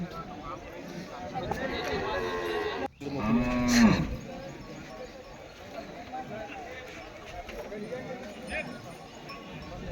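At a buffalo market in Pusad, a Murrah buffalo lets out one loud, drawn-out moo partway through, set against steady crowd chatter and people talking.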